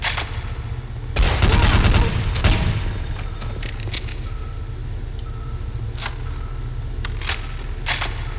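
Gunfire in Counter Strike Condition Zero: a loud burst of rapid shots early on, then scattered single sharp cracks later over a steady background of game noise.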